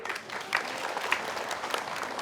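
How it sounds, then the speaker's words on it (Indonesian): A studio audience on a television talk show claps for an arriving guest, a short, fairly faint spell of steady, scattered applause with a few sharper claps standing out. "tepuk tangan semua boleh"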